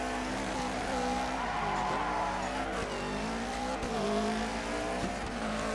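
Rally car in Dirt 3 under a handbrake skid, tires squealing against a loud revving engine with wavering pitch throughout, close and continuous.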